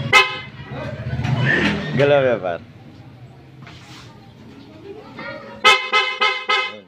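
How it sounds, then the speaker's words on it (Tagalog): A loud horn on a Yamaha Sniper 150 MXi motorcycle honks several times in quick succession near the end, after a stretch of people talking close by. "Itong masigan busina naman. Malakas na busina, subukan natin."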